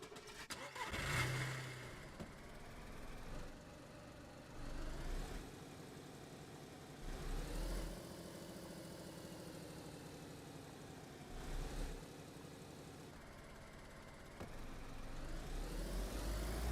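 A car engine in a Chernarus video game cranks to life, then revs in several separate rising bursts with lower steady running between them. The engine sounds moderately distant and fairly quiet throughout.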